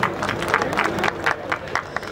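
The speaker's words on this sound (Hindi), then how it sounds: "एक बार जोरदार तालियां इस एसोसिएशन के लिए आप बजा दीजिए।" An audience at an amateur bodybuilding event claps hard for the association, with clear rhythmic bursts of clapping over a dense crowd roar.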